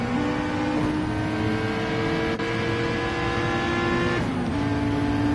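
Race cars, a McLaren and an Aston among them, accelerate at Bathurst in a racing game. A close, steady engine whine rises in pitch through the gears, with brief shift dips along the way.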